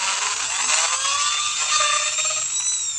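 A small electric drill bores holes into bamboo for a trap, giving a steady high whine with rising and falling pitch over about three seconds, close and alone.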